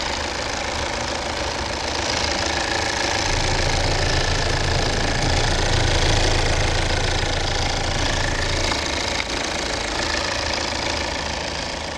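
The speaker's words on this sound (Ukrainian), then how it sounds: "Ось така робота двигуна." A 2014 Volvo V70 with a 2.0 D4 diesel engine and automatic gearbox runs at idle. It gives a steady, close, loud clattering drone that stays even throughout, with no voices.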